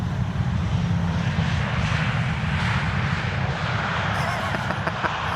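Airliners at Amsterdam Schiphol Airport make a continuous, loud, low engine rumble and broadband roar that holds steady throughout.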